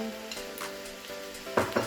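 Fish frying in a pan with seasoning and broth for a gombo pistache dish, a soft continuous sizzle broken by a few louder scraping stirs near the end, close and without talk.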